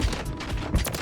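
Rapid bursts of gunfire from a shotgun in Call of Duty Modern Warfare 3, dense and loud with repeated sharp blasts layered over each other across about a second.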